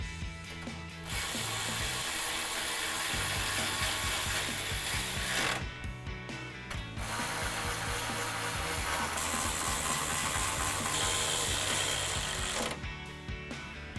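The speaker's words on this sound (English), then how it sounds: "And tighten it down with our 10mm socket." A ratchet wrench fitted with a 10mm socket tightens a bolt on a 2007-2013 Silverado 1500 headlight install, giving a continuous close clicking of the pawl with two brief pauses between runs of turning.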